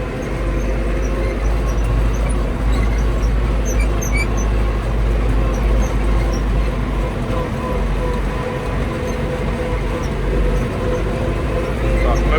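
A tractor drives through a sunflower field while spraying fungicide, giving a steady low engine rumble with a mechanical hum that runs unbroken throughout, close to the microphone.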